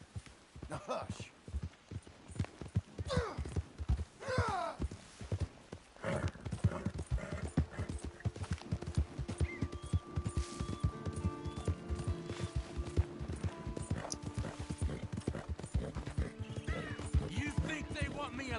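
Horse hooves clip-clop in the Red Dead Redemption video game, a close steady rhythmic trot running throughout, with a whinny and some talk mixed in.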